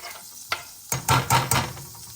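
Garlic sizzling in butter and a little oil in a pan, with a brief crackle followed by louder bursts of frying and stirring scrapes, close and without talk.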